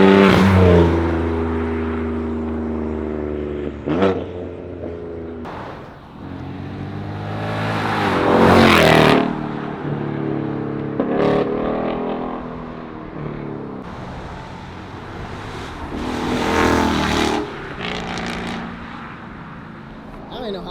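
Cars pulling out of the Eurofed Beers & Gears car show in September 2024, engines revving and accelerating hard in several loud bursts, with a crowd talking and shouting over them.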